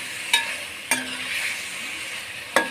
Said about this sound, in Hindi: जब भी आप कढ़ाई बनाएं तो पहले आप चिकन को इसी तरह गोल्डन ब्राउन करें